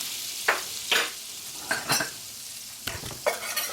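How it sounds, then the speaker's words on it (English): Butter cooking in a pan for a vegan shepherd's pie, a constant close hiss and sizzle broken by several brief stirring scrapes, with no voices. "Gonna let your butter cook."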